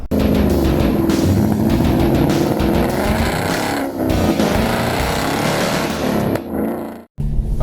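A Hyundai Veloster N and a Ford Focus RS out on a racetrack, engines roaring loud and close with rising and falling revs and gear changes, the noise cutting off sharply near the end.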